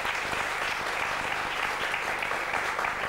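Studio audience applauding during a German television panel discussion, a dense, steady clapping that fills the whole stretch without a break.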